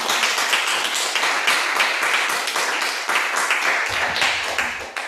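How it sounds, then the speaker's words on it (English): Audience applause at an entrepreneurship and gender gap event, a steady dense wash of clapping that keeps going the whole time with no pauses. "Let's give her a big round of applause."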